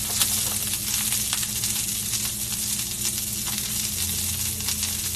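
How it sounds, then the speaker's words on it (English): Eggs frying in a pan, a dense steady sizzle up close with faint crackles and a low background hum, no voices. "we're going to crack them in the pan"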